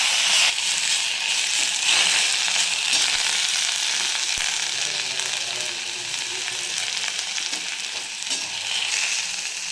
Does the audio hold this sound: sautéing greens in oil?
yes